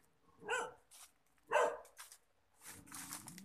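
A dog in a lychee orchard barks twice in sharp separate bursts at moderate distance, then gives a softer, lower run of whining barks, with nobody speaking.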